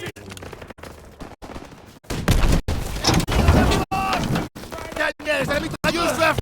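Gunfire from a machine gun in a World War II shooter game, loud bursts broken by brief gaps, with voices talking over and between the shots.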